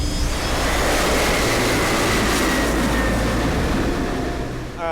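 Airplane landing on an ice runway about a metre thick near the North Pole, a loud, steady engine roar with broadband rushing noise that holds throughout and eases slightly at the end.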